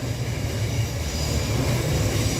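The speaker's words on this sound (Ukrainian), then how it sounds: "Нідерландська залізниця." Dutch railway train rolling past in a town on a Sunday, a steady loud low rumble of wheels and cars that holds for the whole stretch with no voices.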